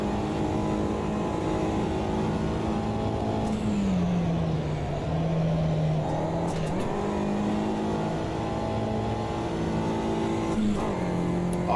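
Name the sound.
race car engine driving in Automobilista 2 video game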